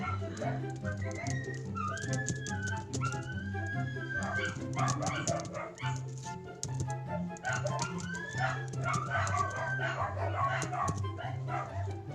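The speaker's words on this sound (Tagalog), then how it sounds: "Nag-iingay ng mga aso dito." Dogs bark repeatedly in the background, mixed with steady music and game-like sounds throughout.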